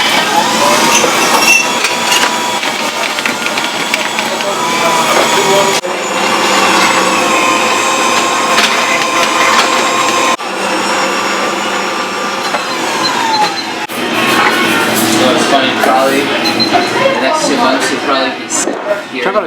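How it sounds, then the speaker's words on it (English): A 1940s mint green Hamilton Beach drink mixer whirs steadily while blending a chocolate milkshake at a diner on New York's Upper East Side, a loud, close motor whine that shifts pitch a few times under spoken talk. "We ordered a chocolate milkshake, which is made in their 1940s Hamilton Beach mint green mixer."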